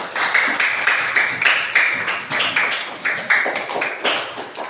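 A classroom group claps together after a lesson, a dense run of hand claps with rhythmic bursts that rise and fall over several seconds, fairly loud and close.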